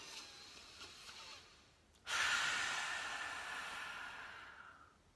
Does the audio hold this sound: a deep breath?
yes